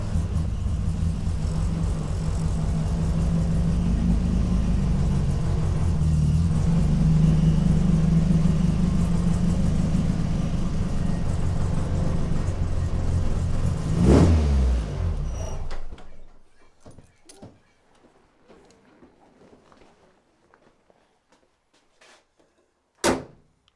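A car being driven on a road, with a steady engine drone and tyre rumble lasting about fifteen seconds before abruptly dropping to near silence, followed by a few faint clicks and one sharp knock at the end.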